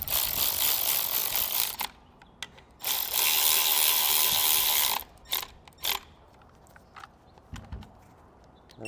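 A ratchet snugs down bolts on an Air Lift LoadLifter 5000 Ultimate air helper spring assembly, close up: two sustained bursts of rapid clicking, then several short, sparse clicks and taps.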